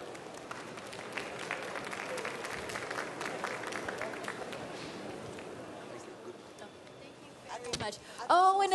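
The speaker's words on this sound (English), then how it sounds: "Ladies and gentlemen, a round of applause" Audience applause at a pastry world championship, a steady wash of clapping from a crowd that thins out toward the end, with brief voices and sharp noises at the close.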